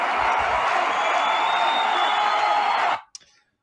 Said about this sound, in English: And a stadium crowd cheer.